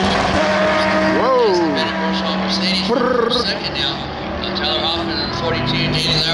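A Mercedes-AMG race car passes on the track at Road Atlanta, its engine note rising and falling over a loud steady background of other engines and crowd noise, with talk around it.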